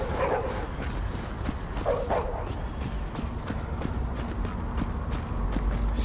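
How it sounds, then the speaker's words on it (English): Dogs bark a few times in the video game The Division, short yaps fairly distant under a constant loud street-ambience rumble. "Hello, doggies."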